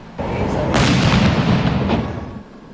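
One massive illegal firecracker, the Goodbye Colombia, blast booms close by at a grandstand, its roar rumbling and fading over a couple of seconds.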